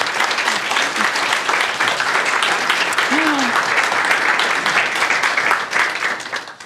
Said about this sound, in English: Let's give Pile an applause.